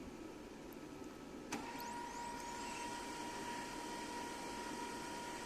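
A Fuji Xerox M115fs printer runs a test print with a steady mechanical hum and whir, a brief click near the start, then a constant tone as the paper feeds through, heard alone at moderate level.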